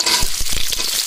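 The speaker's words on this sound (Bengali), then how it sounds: "প্রথমে পেঁয়াজ কুচি দিয়ে দিব" Chopped onions frying in a pot for a watermelon-cooked biryani, a steady close hiss of sizzling oil with a few soft stirring bumps, no voices.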